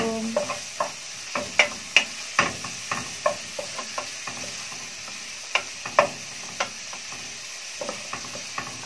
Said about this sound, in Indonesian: Ini ya bawang bombaynya kita tumis dulu, kita masukin.